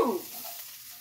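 Garlic hits a hot pan for a quick sauté, a brief loud burst of sizzle up front that settles into a steady, softer hiss, heard close with no talking.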